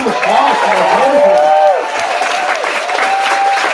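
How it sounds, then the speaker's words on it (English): A crowd at a taiko drumming spring showcase applauds and cheers, a continuous wash of clapping with a voice speaking over it throughout. "Another round of applause for"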